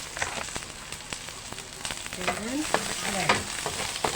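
Onion and ginger sizzle in hot oil for a fried tilapia fish stew, a steady close crackle broken by scraping stirs, while someone talks over it.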